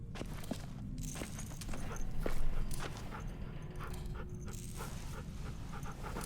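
Rosie the dog pants and pads along on foot in The Walking Dead video game, with steady close breathing, light footsteps and ambient game sound underneath.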